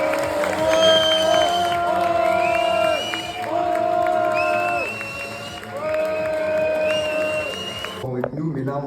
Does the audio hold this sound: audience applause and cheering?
yes